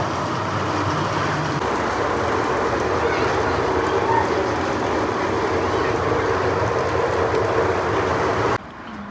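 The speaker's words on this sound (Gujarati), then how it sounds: "તો ગાઈસ વરસાદ જોરદાર પડે અત્યારે" Heavy rain pours down in Patan as a dense, steady hiss that stays loud and even for several seconds, then cuts away abruptly, with people talking nearby.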